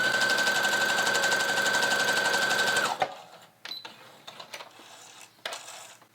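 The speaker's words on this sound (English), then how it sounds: "basting stitch is the longest straight stitch your sewing machine has" Sewing machine running a long basting stitch on fabric for children's pants, a loud steady whirring hum for about three seconds that then stops, followed by soft handling clicks.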